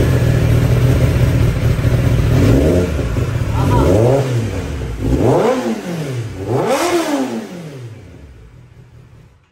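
A Kawasaki ZX10R superbike with a newly fitted aftermarket exhaust revs hard three times in a row, each blip rising and falling sharply over a loud idle that fades out at the end.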